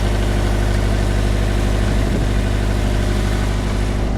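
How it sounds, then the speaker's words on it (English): An 11 kW onboard boat generator runs with its cover lifted, a loud steady low-pitched engine drone with a constant hum, close and uninterrupted with no talk. "You can't hear it probably very well at all, but the generator is running."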